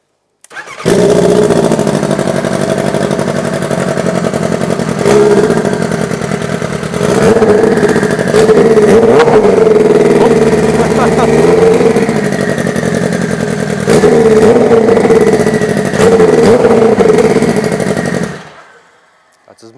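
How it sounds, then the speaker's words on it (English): Turbocharged vehicle engine, running rich, cranks and fires up, then settles into a loud idle broken by several sharp revs over about seventeen seconds before shutting off. "Let's start it up real quick."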